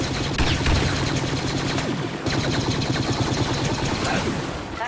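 Rapid gunfire from the Star Wars Battlefront video game crackles in loud, dense bursts, a fusillade of shots with a short break midway, no voices.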